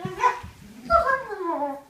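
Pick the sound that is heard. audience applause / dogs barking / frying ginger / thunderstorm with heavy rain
dogs barking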